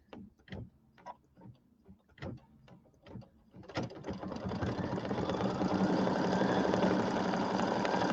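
Kimberbell embroidery machine stitching a circle on green fabric: a few separate mechanical clicks and taps at first, then a continuous rapid whirring and clatter of stitching that builds and holds steady, fairly quiet.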